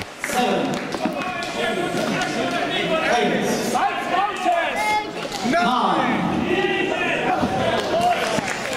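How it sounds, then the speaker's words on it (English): A wrestling crowd roars and chants in an arena during an AJ Styles versus Tommy End match, loud, continuous cheering that swells in waves, with a commentator's voice running over it. "the crowd just willing AJ to get back in"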